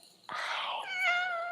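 A pet cat gives a single drawn-out meow at close range, rising then settling into a clear tonal wail, heard alone in a quiet indoor room with no talking.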